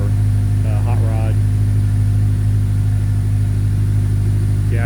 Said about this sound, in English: It doesn't have a raspy sound to it. It's kind of very mellow. Magnaflows are like that.